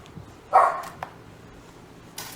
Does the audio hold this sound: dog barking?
yes